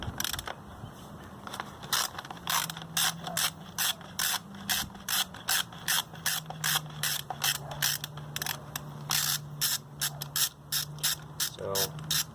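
A socket ratchet wrench clicks in quick, regular bursts while working on bolts of a Honda Ruckus scooter, close and crisp, with a faint low hum underneath.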